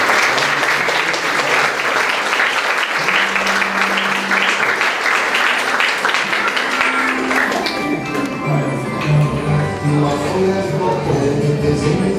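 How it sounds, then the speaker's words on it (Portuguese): Dense, sustained applause from the audience at a solemn council session honoring teachers, loud and steady for several seconds before thinning out as tonal sounds emerge beneath it. "Uma salva de palmas!"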